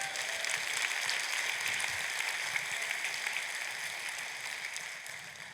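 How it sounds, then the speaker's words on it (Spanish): A church congregation applauds during a service, soft steady clapping that sounds distant and rain-like and runs throughout, fading slightly at the close. "Aplausos al Señor."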